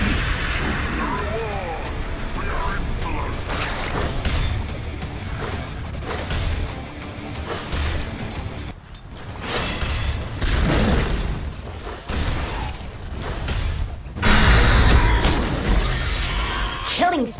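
Heroes attack a top tower in Dota 2, heard as a dense, loud battle mix of repeated impacts, booms, crashes and clanking effects under an announcer's voice, with a sharper burst near the end.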